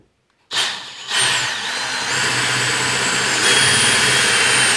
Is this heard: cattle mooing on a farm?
no